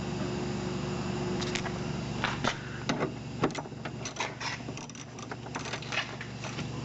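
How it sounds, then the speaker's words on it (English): A wrench or ratchet works loose a 10mm bolt on a Kia Amanti door, making a quiet run of irregular close metallic clicks and creaks over a faint background hum, with no talking. "10mm, we're going to loosen that."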